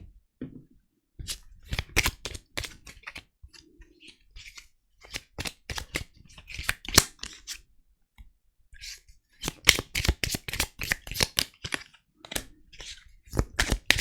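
Oracle cards being shuffled for a reading, giving bursts of sharp riffling and slapping clicks in irregular clusters with short quiet pauses, close and clear, no speech.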